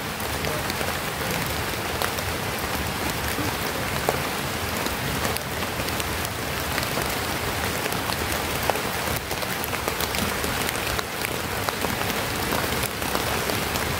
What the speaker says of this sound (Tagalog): lumakas na yata yung ulan